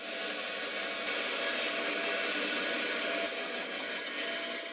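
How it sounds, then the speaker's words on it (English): Bandsaw cutting a wooden fishing lure blank, a steady close whirring and cutting drone that holds evenly without pause, no talk. "I need to go and cut them out on the bandsaw"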